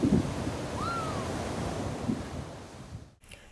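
Waves rolling onto a beach beside a marina on a warm late-summer day, a steady wash of surf with wind rushing over the microphone, fairly close and continuous, fading near the end.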